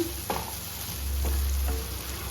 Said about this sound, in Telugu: అన్నీ ఒట్టి మిరపకాయలు కూడా వేసిన. అవి కొద్దిగా వేయించుకుంటే బాగుంటుంది.